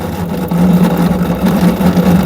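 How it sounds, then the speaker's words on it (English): Drain motor of a Samsung washing machine with a clutch fault, running steadily after power is connected, a loud close hum holding one low pitch throughout. "Here dear, you can see here motor is okay, it's working."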